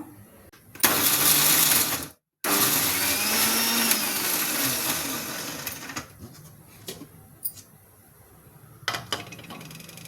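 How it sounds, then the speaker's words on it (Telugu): A mixer grinder whirs loudly as it grinds fried green chillies with four garlic cloves and salt for a cucumber-tomato chutney. It roars in two close bursts separated by a brief stop, then fades into quieter rattling and clicks. "అలాగే ఒక నాలుగు ఎల్లిపాయ రబ్బులు వేసుకొని ఫస్ట్ దీన్ని మిక్సీ పట్టుకుందాం"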